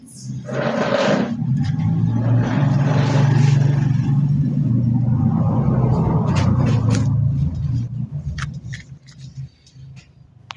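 Several vehicles pass by on a busy graduation day, a steady rumbling road noise swelling and fading over most of the stretch before thinning out, with faint voices in the background.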